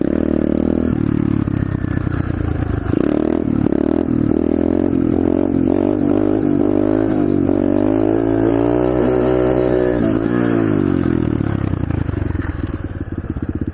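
A pit bike engine drones steadily while riding and cruising around, its pitch rising and falling with throttle changes, loud and close throughout with no talk.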